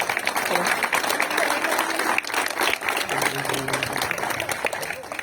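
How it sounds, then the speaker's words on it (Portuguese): Sustained audience applause at a school orchard ceremony in Ferraz de Vasconcelos, a dense crowd clapping steadily throughout, with voices mixed in. "Vamos receber com a salva de palmas"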